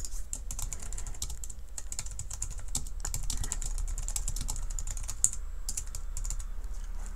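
Fast, steady typing on a computer keyboard, close and fairly quiet, with rapid key clicks and no talking.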